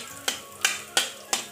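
Garlic sizzling in hot oil in a pan, with four evenly spaced bursts of louder crackle as it is stirred, close and clear.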